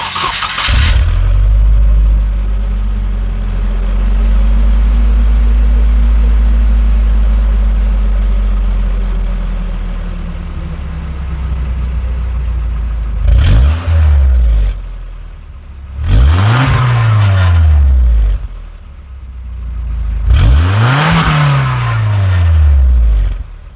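A 1989 Nissan 240SX engine cranks and catches, settles into a steady idle, then revs sharply three times, each rise falling back to idle, loud and close.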